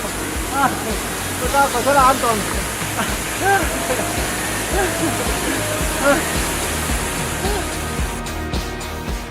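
Steady, loud roar of a waterfall in Vietnam down a sheer cliff fills the scene, with people talking and calling out over the rushing water.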